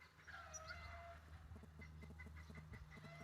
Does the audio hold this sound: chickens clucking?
yes